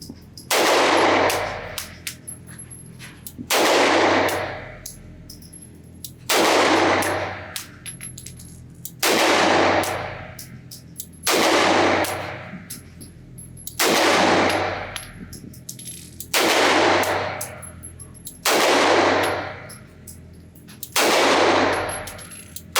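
An Atlas Gunworks Nyx, a 2011-style double-stack pistol, fires about nine evenly spaced shots at a range. Each shot is a sharp crack that rings out and decays before the next.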